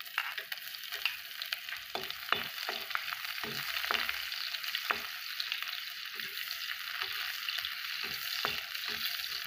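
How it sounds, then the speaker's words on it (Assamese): Onions frying in mustard oil with a bay leaf, a steady close sizzle broken by frequent scraping stirs and utensil clicks against the pan, with no talking. "তেলখিনি গৰম হোৱাত মই তেজপাত এখিলা দি দিছোঁ। তাৰপাছত মই পিঁয়াজ দি দিছোঁ।"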